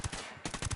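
Gunfire in the video game Ghost Recon Wildlands, a burst of several loud, close shots in quick succession with a brief pause in the middle.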